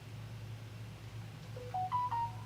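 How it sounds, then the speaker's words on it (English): Cell phone beeping at night, a short run of rising electronic tones at moderate level over a steady low hum, with no talking. "What is all that beeping going on?"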